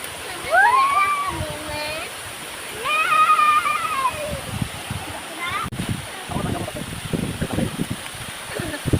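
Bambi Falls waterfall pouring in a steady broadband rush, close and continuous throughout, with excited voices and shouts talking over it.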